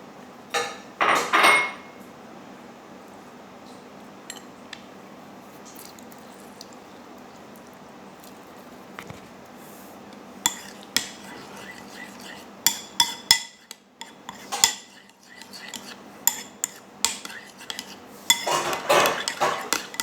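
A spoon clinks and scrapes against a bowl while a vegetable salad is stirred into a yogurt dressing, with soft squishing, intermittent bursts of clattering and quiet stretches between them.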